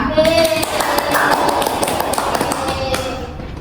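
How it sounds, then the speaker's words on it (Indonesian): A classroom of students clapping hands during a maths microteaching lesson, quick uneven claps and taps close by, with a voice speaking over the start. "Kalian hebat sekali, tepuk tangan."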